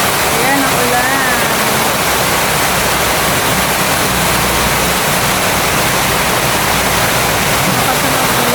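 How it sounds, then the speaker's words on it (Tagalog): Heavy typhoon rain pours steadily and loudly in Leyte, a dense continuous roar like rushing water filling the whole clip, with no other sound standing out. "Lakas na ng ulan"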